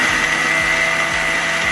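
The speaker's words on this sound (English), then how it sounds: "Blitz these together in a blender and your crust is ready." A blender blitzes almonds, dates and a pinch of salt for a crust, giving a loud, steady motor whir with faint regular pulses as the contents tumble.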